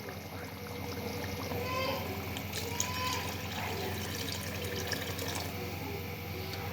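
Water poured into a pan of cooking mutton liver (kaleji) masala, a steady splashing pour and trickle running under a voice speaking over it.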